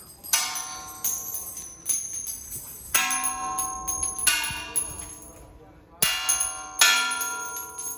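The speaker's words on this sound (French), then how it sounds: "faut essayer de toucher la cloche" Bronze temple bell at White Cloud Temple in Beijing, struck by thrown bronze coins, rings out in a run of bright metallic strikes with long shimmering decays, several hits close together and loud, with faint voices in the background.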